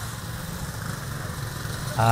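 A Rusi RFI 175 motorcycle, also sold as the VMAX 175, idles close by with a steady low single-cylinder putter, its engine note rising abruptly near the end as it's revved.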